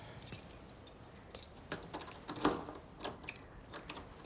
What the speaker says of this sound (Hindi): ये ताला लगा हुआ है खुल नहीं रहा 2 सेकंड सारी चाबियां ट्राई की आपने